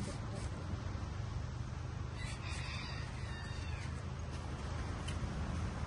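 A cat meows a few times, faint and somewhat distant, over steady background noise.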